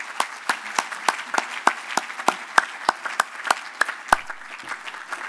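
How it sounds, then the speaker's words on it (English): An audience at a Drug-Free Kids Campaign awards dinner applauds Mr. Roach, with a steady run of sharp claps in an even rhythm, close and clear over a thinner bed of background clapping. "just give him a round of applause"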